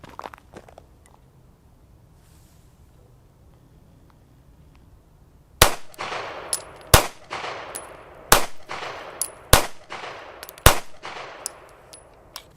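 Taurus GX4 9mm micro pistol firing five Blazer Brass rounds at a target, sharp loud shots spaced about a second apart after several seconds of quiet.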